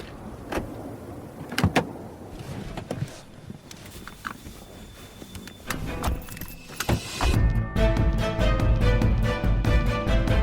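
Car keys jangle in short metallic bursts near a parked car by a diner, followed by door clunks and an engine starting and running steadily and loudly, with no talk.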